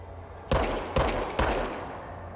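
Three loud, sharp gunshots from the player's gun in the video game Control, evenly spaced about half a second apart, each with a short decaying tail, heard close and alone.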